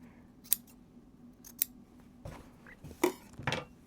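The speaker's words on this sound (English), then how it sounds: "I'm just going to do it with scissors here" Scissors snip through quilt fabric, trimming excess at a seam allowance: a few sharp, close cuts spaced irregularly over a quiet background.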